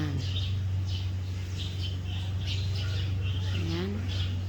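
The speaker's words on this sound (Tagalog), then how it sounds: "Ang daming ibon." Birds chirping in a jackfruit tree, with repeated short tweets and a few sliding calls over a steady low hum, while a person talks quietly underneath.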